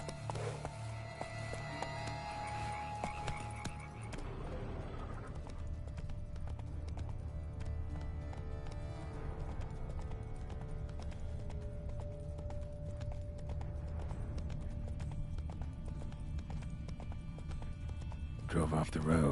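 Rhythmic clip-clop of a horse galloping steadily in The Witcher 3: Wild Hunt on PS5, with game music and ambient sound throughout and a brief whinny near the start.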